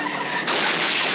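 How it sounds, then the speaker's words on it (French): Cars skidding on a street in a film, a loud, sustained broadband tire screech that swells midway and holds steady to the end, with engine noise beneath and no voices. "C'est les mecs qui déconnent avec des bagnoles dans la rue."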